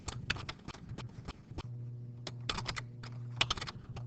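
Keys clatter on a computer keyboard as a file name is typed at a workstation for a CNC plasma cutter, with quick bursts of close, crisp clicks separated by short pauses over a low steady hum.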